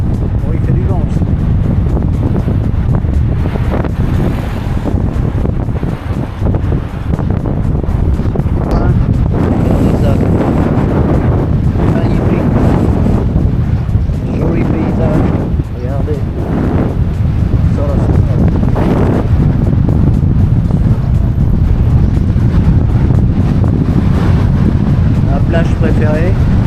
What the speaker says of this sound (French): il fait du vent aussi